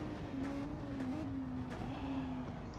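A Porsche race car engine on a straight in a racing game, a steady mid-pitched drone that holds and slowly dips, with faint clicks and other cars mixed in under the tone.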